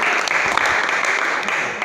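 Loud group clapping from a class at SMK Negeri 1 Gombong in an automotive lesson, sustained dense applause with a few sharper individual claps standing out, fading slightly at the end.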